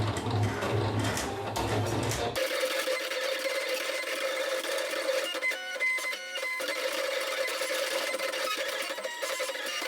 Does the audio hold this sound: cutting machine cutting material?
yes